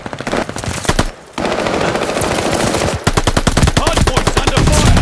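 Rapid automatic gunfire from a Call of Duty Vanguard hardpoint match rattles in fast, sharp bursts, broken by a short pause near the second mark and another brief gap, loud and close with game effects mixed in.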